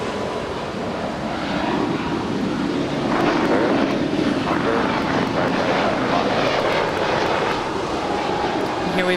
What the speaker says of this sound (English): 643 heading to Chicago O'Hare. It's a 1-year-old Airbus A320 Neo.